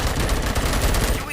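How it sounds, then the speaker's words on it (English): Rapid gunfire in the first-person shooter Robocop: Rogue City, a dense, loud burst of overlapping shots that runs steadily through the whole short stretch. "Gunshots? What's going on?"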